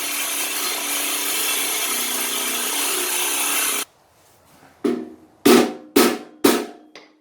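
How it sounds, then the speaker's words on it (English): A power tool grinds down welds on a 110cc go-kart engine mount, first a steady loud buzzing scrape for almost four seconds, then a short pause and four sharp, brief bursts as it is restarted. "So just gonna scratch these welds up so it'd be easier to pop off."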